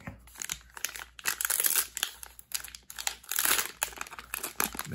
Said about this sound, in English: Now let's get to opening a pack.